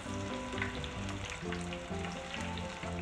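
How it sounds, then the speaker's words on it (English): Shrimp frying in oil for po-boys, a bright continuous sizzle with fine crackling pops and a faint humming drone beneath, near and steady with nobody speaking. "you fry your shrimp only but a few minutes"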